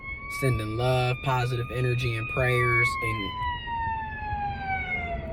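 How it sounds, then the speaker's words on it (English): A fire truck siren wails past, its sweeping tone sliding lower as it moves away, heard under a person talking nearby. "That's the fire truck."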